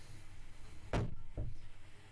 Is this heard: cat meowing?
no